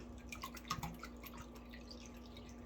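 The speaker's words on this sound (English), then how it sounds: "as the water line starts to go down, I'm just gonna put more water in here" Water poured in and dripping through a filter, faint irregular drips and light trickling over a steady low hum, no talk.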